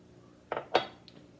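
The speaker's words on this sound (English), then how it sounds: "And you're just gonna give it a stir." A spoon or utensil stirring flour and warm water in a pot on a stove at medium heat, two quick scraping clinks against the pot followed by a faint tap, close and alone.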